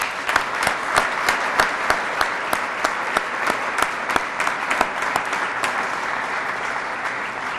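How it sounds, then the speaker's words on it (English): Applause from an audience at a groundbreaking event, a steady, moderately loud clatter of many hands clapping throughout with a few sharper individual claps standing out. "Please give him a round of applause."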